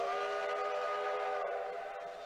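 A steam train whistle blows as a single long, steady, loud blast that holds alone for a couple of seconds before easing slightly.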